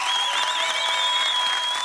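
A Greek television studio audience bursts into enthusiastic applause, a dense, steady clatter of many hands lasting a couple of seconds, with a thin sustained tone running over it.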